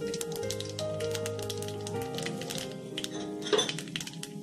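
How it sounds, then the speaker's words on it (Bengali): Black cumin seeds fry in hot oil in a pan while cooking a rohu fish curry, giving a faint, steady crackle with scattered pops beneath a low background hum and music, with no talk. "কালো জিরেটা ভাজা ভাজা হয়ে গেছে"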